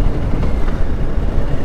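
A 2020 Harley SportGlide motorcycle rides at speed with a loud, steady engine and road roar that stays dense for a brief moment. No distinct gear change can be picked out.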